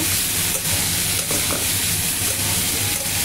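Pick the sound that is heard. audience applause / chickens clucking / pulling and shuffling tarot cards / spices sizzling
spices sizzling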